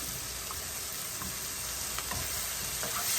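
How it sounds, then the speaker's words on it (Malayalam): Tomato is fried and stirred in a pan while making mushroom macaroni, giving a steady close sizzle with a few light scrapes and taps of the spoon. "അടുത്തതായിട്ട് നമ്മൾ റെഡിയാക്കി വെച്ചിരിക്കുന്ന ടൊമാറ്റോ ഇതിലേക്ക് ഇട്ട് കൊടുക്കണം."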